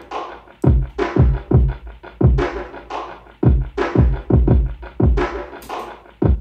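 A plain programmed drum track for a hip-hop instrumental, with no vinyl chops layered in: kicks, snares and hats repeat in a steady looping pattern, loud and clean, with no talking.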